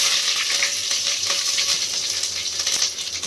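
Mustard seeds, curry leaves, garlic and chillies sizzle loudly in about three spoonfuls of hot oil, a steady bright hiss with scattered popping crackles throughout, close and continuous with no talking.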